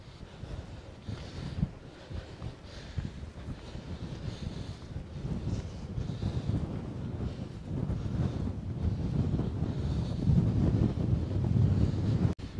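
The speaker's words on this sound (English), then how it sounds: "It is windy and cold up here." Strong, cold wind buffeting the microphone atop Capulin Volcano, a low rumbling roar that builds louder toward the end, with no one talking.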